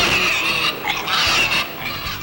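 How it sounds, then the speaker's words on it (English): Pot-bellied pigs grunt and squeal repeatedly at a public hearing, their shrill, wavering cries loud and close over a murmuring room. "A consumer rights group brought several pot-bellied pigs to a public hearing today to protest"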